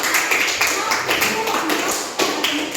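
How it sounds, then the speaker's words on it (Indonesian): A school classroom clapping for a student named Syahra, many hands tapping together in a quick, uneven patter, fairly close and continuous for a few seconds. "tepuk tangan dulu untuk Syahra"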